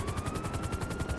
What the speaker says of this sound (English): The helicopter is here.